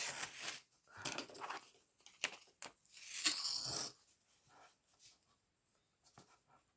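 Several quick, scratchy tearing rips of packing tape come in short bursts, the longest near the middle, followed by quieter rustling handling.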